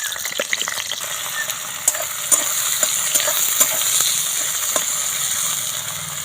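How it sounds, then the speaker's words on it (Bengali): Chopped onion frying in hot oil with bay leaf and whole garam masala, making a loud, continuous sizzle punctuated by repeated scraping and clinking stirs of a spatula. "ভাজা হয়ে গেছে, পেঁয়াজ কুচি তেলের মধ্যে দিয়ে দিলাম"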